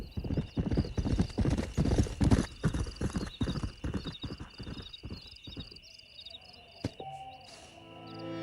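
A stallion's hooves clip-clop in a steady rhythm on a trail in the Red Dead Redemption game, close and clear over chirping insects, fading out as a brief whinny sounds and music swells at the end.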